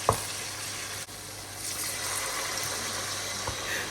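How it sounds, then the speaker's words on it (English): Chopped onions fry in hot oil in a pot for Ghanaian Angwamo braised rice, giving a steady soft sizzle with a few small pops and no talking. "add your onions, fry them until it's very nice and caramelized as you see on the screen"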